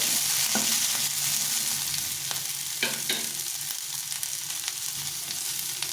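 Continuous sizzle of vegetables frying in a pan for veg chowmein, broken by occasional spatula clinks and scrapes as they are stirred.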